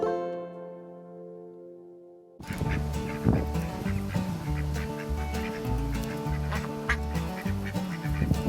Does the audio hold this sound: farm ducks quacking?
yes